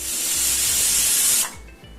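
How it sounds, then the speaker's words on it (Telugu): Steam hisses loudly and steadily from a pressure cooker whistle while mutton curry cooks, then cuts off sharply, leaving a quiet hiss and low rumble. "4 విజిల్స్ వచ్చినాయి."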